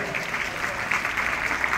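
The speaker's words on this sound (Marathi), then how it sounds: "एकदा आपले धीरज दंडवते सर आणि सागर आप्पासाठी जोरदार आपण टाळ्या वाजवायच्या" An audience at a taluka-level school sports event claps for the guests, a steady dense applause from a crowd of moderate size close by, with no voices over it.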